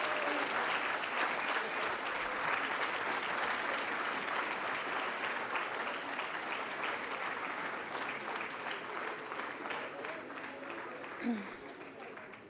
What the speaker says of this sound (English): Please, let's give them a warm round of applause.